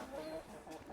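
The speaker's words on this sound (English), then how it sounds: "And we have chickens." Chickens clucking in an autumn garden, a brief soft cluck or two from a hen, faint and fairly close, lasting only a moment.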